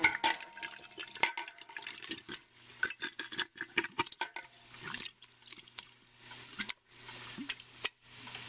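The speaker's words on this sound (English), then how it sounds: "And our stewed tomatoes right here. We're going to add those in." Canned stewed tomatoes glug and slosh as they are poured from a jar into a soup pot of homemade cabbage soup, wet splashing and plopping in quiet irregular bursts close by, without talk.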